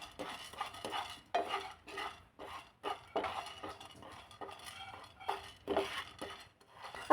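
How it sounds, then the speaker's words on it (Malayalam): A spoon scrapes and knocks against a pan while lentils are stirred and fried until golden, irregular clinks and scrapes in short bursts with soft sizzling, close and fairly quiet. "ഈ പരിപ്പ് ഗോൾഡൻ കളർ ആവുന്നത് വരെ നമ്മളിത് ജസ്റ്റ് മെല്ലെ ഒന്ന് ഇളക്കി കൊടുക്കണേ."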